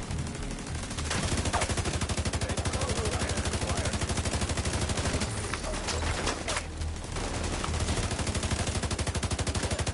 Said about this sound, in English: he was shooting at me until I started shooting at him